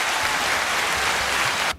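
A canned hand-clap applause effect fired from a button on a podcast soundboard: a dense, steady burst of crowd clapping at full level that cuts off abruptly near the end.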